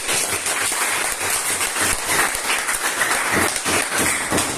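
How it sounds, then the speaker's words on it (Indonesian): Students in an economics classroom clap for a group after their work, a busy, sustained round of applause that stays fairly loud and even from start to finish. "Tepuk tangan untuk kelompoknya."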